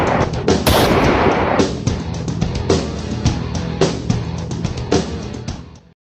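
Loud, rapid gunshots ring out in quick succession, with repeated sharp cracks and short bursts over several seconds before fading at the end, and no speech.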